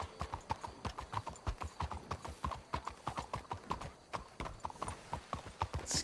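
Horses' hooves clip-clop in Red Dead Redemption 2, a close, steady, brisk rhythm of hoofbeats on a street that carries on throughout.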